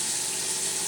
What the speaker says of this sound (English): Run the water a little bit to get warm.